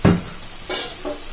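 A spoon scrapes and stirs kadai mushroom masala in a hot pan, three strokes over a steady close sizzle of frying.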